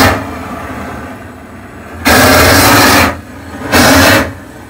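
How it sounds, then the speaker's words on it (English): A propane weed burner torch roars in two loud close bursts, each about a second long, with a quieter low hiss between them. "Got my blowtorch. Weed burner is what we call it. I want y'all to hear how much torque this thing got on."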